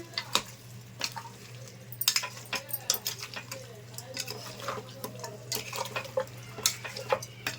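Mutton being stirred with masala in a pot, a spoon scraping and clinking against the metal in irregular nearby strokes over a steady low hum, with a voice speaking now and then.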